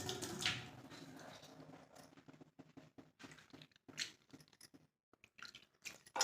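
Thattai dough kneaded by hand with water sprinkled over it, producing close, soft squishing and sticky pressing sounds in an irregular rhythm, faint and unaccompanied by talk.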